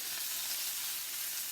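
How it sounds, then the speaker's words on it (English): Mushrooms and cherry tomatoes fry in a pan with a spray of olive oil, giving a steady, even sizzle that holds at a constant level throughout without any voices. "cooking away in my frying pan with a spray of olive oil"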